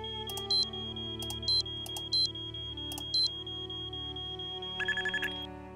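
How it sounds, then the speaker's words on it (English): In the Nancy Drew game Treasure in the Royal Tower, an electronic alarm sounds in repeated short beeping bursts about once a second, with a faster rapid beep run near the end, over a low steady hum. "Alarm going off."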